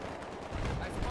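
Dense, continuous rattle of gunfire in a first-person shooter, steady and moderately loud with no gaps across the whole moment, under a low rumble of battle ambience.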